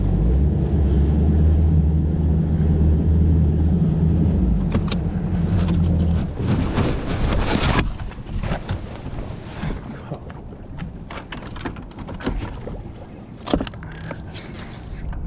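A bass boat engine idles low and steady on shallow water for several seconds, then gives way to wind buffeting and scattered clatter and knocks on the boat during a fishing tournament.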